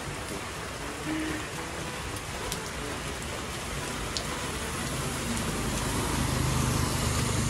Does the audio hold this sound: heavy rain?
yes